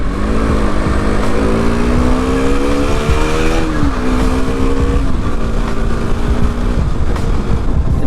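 A motorcycle rides along a highway in Nagaland, its engine a loud, steady drone with rising and shifting tones as it accelerates through gears, wind rushing throughout.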